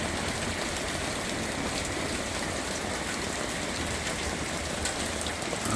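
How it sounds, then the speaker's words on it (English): Pouring rain in a New England rainstorm, a dense, steady hiss of heavy rainfall drumming close by without a break, loud and even throughout, with no voices. "Crazy rainstorms in New England."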